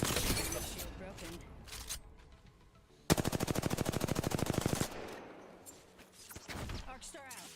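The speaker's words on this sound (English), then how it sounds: "Getting shot at." Automatic gunfire in the Apex Legends video game: one long, loud, evenly paced burst dominates the middle, with scattered shots, impacts and spoken game voice lines around it.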